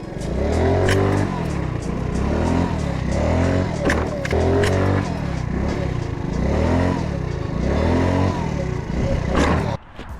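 A stock Viarelli Retro 50cc four-stroke moped engine revs in repeated rising and falling pulls, loud and close, about five or six surges in a row before cutting off near the end.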